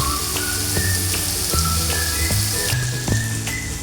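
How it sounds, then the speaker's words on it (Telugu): Tomato pieces sizzle steadily in a hot pan as a curry cooks, a dense crackling hiss with scattered pops and spits, close and continuous throughout. "కాసేపు టమాటా ముక్కలు మగ్గనిద్దామండి"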